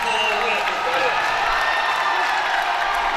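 A high school varsity boys basketball crowd in a gym, Darien against Staples, cheers and applauds in a steady, dense roar, with a commentator talking over it.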